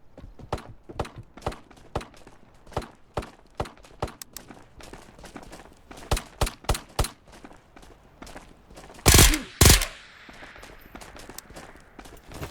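Single-fire Mac 10 shots in the video game Ghosts of Tabor, a series of sharp isolated cracks at uneven intervals, some in quick pairs and triples, followed near the end by two louder, longer bursts.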